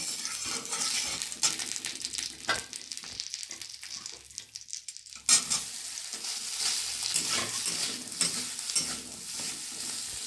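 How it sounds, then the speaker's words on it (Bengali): Soybean chunks fry in a little ghee with turmeric in a kadai, giving a soft steady sizzle broken by scraping stirs and occasional clinks of a spatula against the pan, with no talking. "এই ঘিয়ের মধ্যে দিয়ে সুন্দর করে ভেজে নেব"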